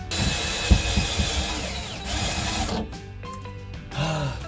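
A small drill whirs in short bursts while boring a small hole in a van roof for a Maxxfan vent installation, close and moderately loud with brief pauses and handling noise between runs.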